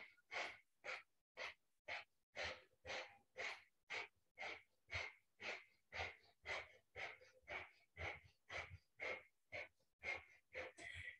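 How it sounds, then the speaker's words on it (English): Rapid, rhythmic forceful breathing through the nose during a Kundalini yoga session, about two sharp exhalations per second, evenly paced and close, continuing steadily with no talking. "Breath of fire."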